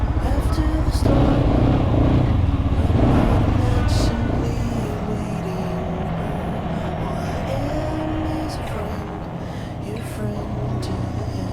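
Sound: motorcycle riding in traffic

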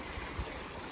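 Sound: small creek flowing along the Appalachian Trail

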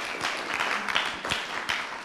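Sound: church congregation applauding

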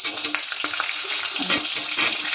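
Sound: frying onion, tomato, garlic, chillies and radish for chutney

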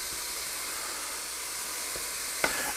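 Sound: fat frying on high heat for walleye chowder

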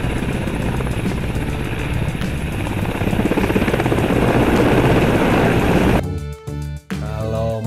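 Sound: helicopter

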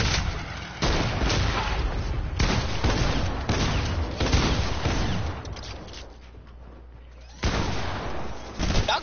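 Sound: gunfire in a video game

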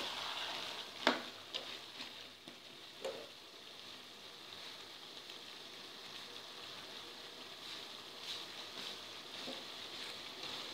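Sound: minced meat frying with potatoes and peas

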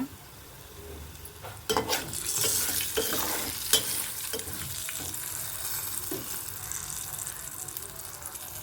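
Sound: turmeric frying and being stirred in a pan

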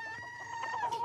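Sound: rooster and hens clucking in radio play

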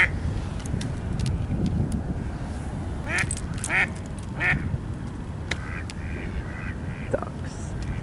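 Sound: ducks quacking

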